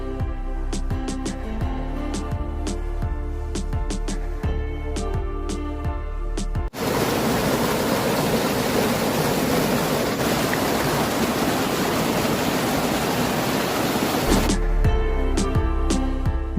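The Betwa river at the Orchha riverbank in Madhya Pradesh gives off a steady broadband rush of flowing water for several seconds, with music playing before and after it.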